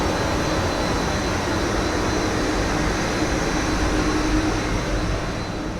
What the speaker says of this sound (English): We've got the fans running in here, so it's a little bit noisy